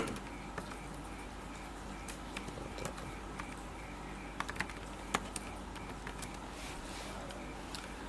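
Rapid, uneven keystrokes on a computer keyboard while a username is entered, steady clicking close up over a low background hum, with no voice.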